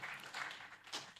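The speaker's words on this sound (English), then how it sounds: "A round of applause for him" Faint, distant applause from a conference audience thanking a guest, a soft wash of clapping that stays low throughout.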